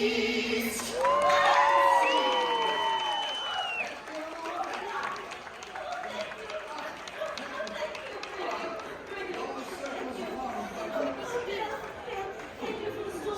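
Audience clapping and cheering in a theater aboard the Disney Wish cruise ship, a loud crowd burst with voices rising in the first seconds, then settling into a softer sustained wash of applause and chatter.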